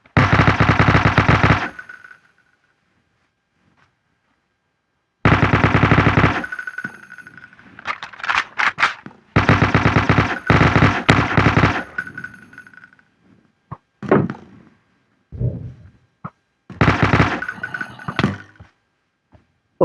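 Bursts of rapid automatic gunfire from modded firearms, such as a Desert Eagle and an M5, in Minecraft, coming in several loud volleys separated by pauses, with scattered single shots and clicks in between.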